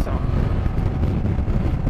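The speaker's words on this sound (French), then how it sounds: "j'en pense qu'il y a beaucoup de vent" Strong wind buffets the microphone on a Honda Transalp motorcycle ride, a steady loud low roar and rumble with no talk over it.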